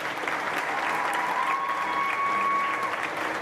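Crowd applause for a contestant at a county supreme showmanship event, a steady, even wash of clapping from many hands filling the whole stretch.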